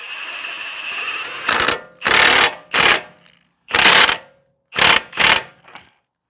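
An impact wrench fitted with a torque stick tightens the axle nut on a 2010 Toyota Corolla 1.8, firing in six loud, close bursts of hammering rattle separated by short silences.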